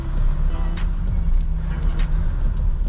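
An EcoDiesel Jeep Wrangler with the accelerator floored: a steady, heavy low engine drone heard from inside the cab, rising only slightly, with faint ticking road noise on top.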